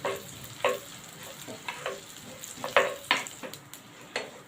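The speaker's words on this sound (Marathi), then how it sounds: "त्याच्यामध्ये आपण जिरा घालूया जिरा हलका फ्राय करून घेऊया तेलामध्ये" Cumin seeds fry in hot oil and butter for dhaba-style matar paneer, a crackling sizzle with repeated sharp spatula scrapes and clinks in irregular bursts, close by and without speech.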